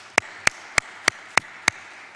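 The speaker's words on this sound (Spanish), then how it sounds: "Le damos un aplauso también al compa." A single person claps slowly and evenly, six sharp close claps at a steady rhythm in a quiet room during a commission hearing, with no crowd joining in.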